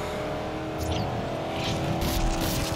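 A Dodge Challenger races past in a racing video game, its engine rising into a sustained roar with some tire noise, joined by other car sounds, loud and continuous with faint background voice.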